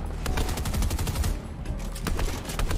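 Dense, rapid bursts of gunfire from the video game Fortnite crackle almost continuously, loud and close, with short gaps between volleys and no talking.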